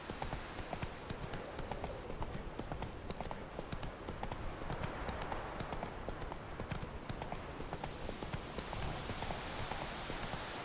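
Roach the horse trotting in The Witcher 3, a dense, steady clip-clop of hooves going on without a break, fairly quiet, no talk.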